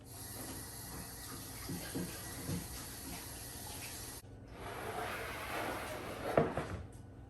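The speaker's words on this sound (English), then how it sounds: "So let's wash my hands real quick" Hands being washed under a running kitchen tap, a steady rush of water with a brief interruption midway, then more splashing and a small clink near the end.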